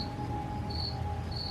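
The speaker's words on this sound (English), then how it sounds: "The insects chittered, and he spasmed and moaned." Insects chitter with steady, high cricket-like trills over a soft ambient hiss, sustained and fairly faint, with pulsing sharper chirps at intervals.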